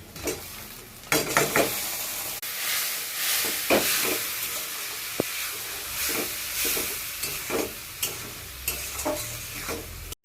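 Onion with ginger, garlic, chilli, cumin, meat masala, turmeric and salt sizzling in a pan, with repeated scraping stirs and bursts of frying hiss at close range.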